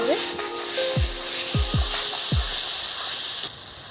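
A ginger, garlic and dried chilli paste sizzles and hisses steadily in a hot pan, with a few low knocks from stirring, close and continuous until the sizzle drops in level near the end.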